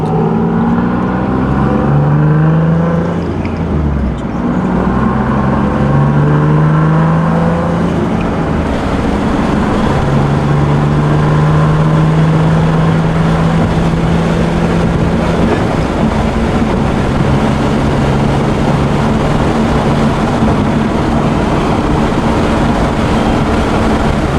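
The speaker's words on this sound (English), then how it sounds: "So you guys see how the RPMs drop down slowly, right?" Single-turbo Nissan 370Z Nismo engine revving loudly, its tone rising and then sliding back down as the RPMs settle, in a steady, close, sustained drone with no talk.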